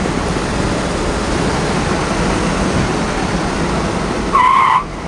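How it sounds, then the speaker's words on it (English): A right rear wheel on a Pontiac Parisienne Custom Sport locks up under braking at low speed, oil fouling its brake shoes, giving a loud rushing tire skid over road noise with a brief squeal near the end. "right rear wheel's got some oil in the brake shoes. Just locked it up real easy."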